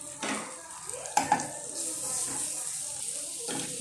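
Ground spices being sautéed in a pan for prawn curry, with a bright sizzle and utensil clinks against the pan while a voice talks over the cooking.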